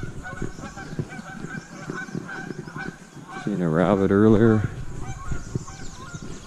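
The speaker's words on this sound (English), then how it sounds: "And there's some geese over there." A goose honks loudly nearby in a rapid series of nasal calls, while someone talks before and after amid outdoor background noise.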